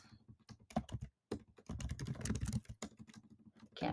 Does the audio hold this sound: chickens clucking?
no